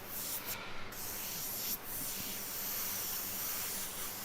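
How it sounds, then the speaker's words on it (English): An airbrush sprays paint onto a T-shirt for live graffiti-style work, a steady close hiss running throughout with brief bursts and dips in the spray. "More intentional overspray just so I can add that white outline in a minute."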